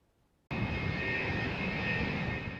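A passenger plane touching down in San Diego after a flight from Texas, its engine roar bursting in suddenly and holding loud and steady with a high whine, no voices.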